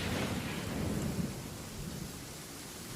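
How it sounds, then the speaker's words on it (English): Steady rain and rumbling thunder from a stormy scene in the video game Genshin Impact, a dense continuous wash of rainfall with low rolling thunder throughout, no voices. "It always rains when I go on an adventure."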